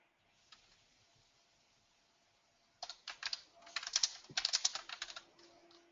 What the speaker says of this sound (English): I was just in the course of typing my question rather than putting the microphone on